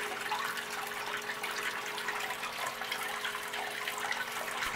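Water rushes steadily across a gold sluice table, washing sand away in an even, close-up wash without pause or talk.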